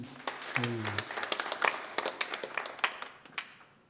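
A church congregation claps for two members during a worship service, a burst of scattered, moderately close applause that thins out over a few seconds, with a brief voice heard at the start.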